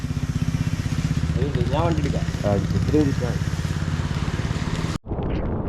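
A motorcycle engine runs with a steady, loud, close throb on a forest ride through Kali Tiger Reserve, Karnataka, with a brief voice over it before a short cut.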